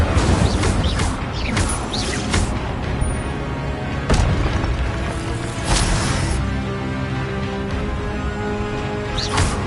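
Incendio fire spell blasts in Hogwarts Legacy, a series of sharp, loud magical bursts and crashes that repeat every second or two over a continuous rumbling game soundscape.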